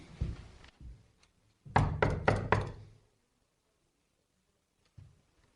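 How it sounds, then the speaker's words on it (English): Several firm knocks on the door of a derelict building, a rapid cluster of four or five raps, loud and close, with a single fainter knock a moment later. "Do you think we should knock?"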